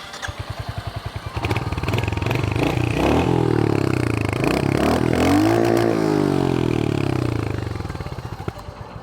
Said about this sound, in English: this is by far the loudest Royal Enfield 350 I've heard in a long time